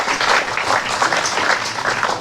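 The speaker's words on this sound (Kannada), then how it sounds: "ಚಪ್ಪಾಳೆ." Audience clapping steadily through a school event honoring a retired judge from an education trust, a dense, even wash of hands with no voices on top.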